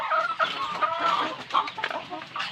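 Chickens in a poultry pen holding about 150 RTL hens cluck continuously with overlapping short calls and squawks, close and moderately loud.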